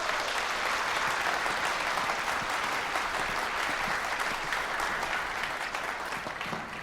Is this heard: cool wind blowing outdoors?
no